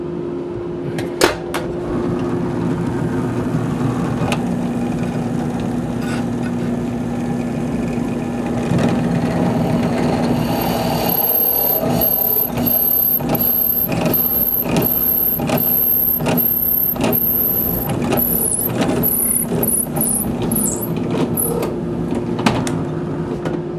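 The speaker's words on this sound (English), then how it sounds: "drilled a hole through that file steel with a carbide drill." Steady machine drone with a high whine entering midway, joined by repeated sharp scraping bursts as a carbide drill bit bites into hard file steel; no talking.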